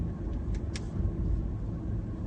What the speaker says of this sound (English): I'm just in my car and driving.